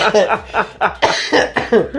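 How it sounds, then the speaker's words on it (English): Several harsh, close coughs come in quick succession, a rough burst repeated about five or six times in two seconds. "just going to cough into the mic for the next hour and a half"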